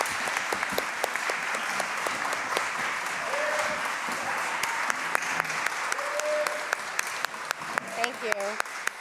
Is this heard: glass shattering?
no